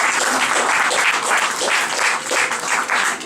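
An audience at the 25th-anniversary ceremony of an international book fair applauds, dense sustained clapping that fills the room evenly, loud and continuous throughout with no speech over it.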